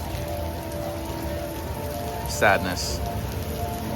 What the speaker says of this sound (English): Why must you start raining now?